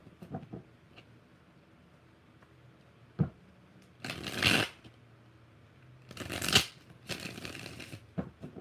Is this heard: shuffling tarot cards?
yes